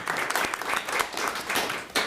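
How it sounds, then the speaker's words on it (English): Applause at a school committee meeting, a roomful of people clapping steadily at moderate volume, a dense patter of hands with no talk over it. "I'd like to give you a round of applause for just your work with that."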